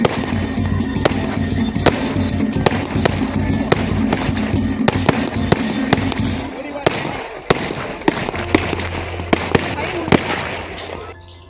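Rapid firecrackers crack and pop in dense bursts at a wedding procession, loud and close, over a busy crowd and band music, with scattered sharp bangs continuing toward the end.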